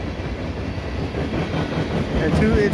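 A CN mixed freight train rolls past up close in winter by the Dorval Ramps, a steady broadband rumble of wheels and cars with brief squeals, while a voice speaks briefly over it.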